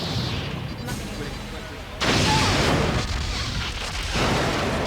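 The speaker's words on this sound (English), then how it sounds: "The Borg cube is firing." Borg cube weapons fire in the Star Trek: Borg video game as loud, sustained blasts. A heavy roar swells, cuts, then surges back even louder for several seconds.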